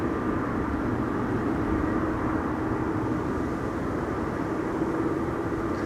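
Lufthansa Airbus A320 airliner arriving from Frankfurt on final approach to Schiphol's Buitenveldertbaan runway 27, a steady low jet rumble that stays broad and even throughout, moderately loud with no voices.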